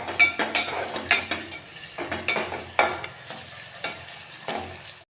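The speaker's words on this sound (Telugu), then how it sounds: "దీంట్లో కొంచెం అల్లం వెల్లుల్లి పేస్ట్ యాడ్ చేసుకొని వేయించుకోవాలి." Ginger garlic paste fries in a pan with tempering seeds and dried red chilies, a soft close sizzle broken by rhythmic scraping strokes of a spatula against the pan.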